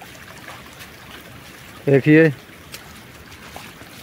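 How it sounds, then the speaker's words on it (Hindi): Rainwater flows and drips steadily after a full day of rain, a soft continuous trickle, with a voice speaking briefly over it midway. "ऊपर से भी पानी आ रहा है,"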